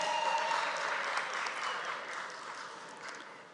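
An audience at a general assembly opening ceremony applauds and cheers, a dense wash of clapping that starts fairly strong and slowly fades, heard at some distance.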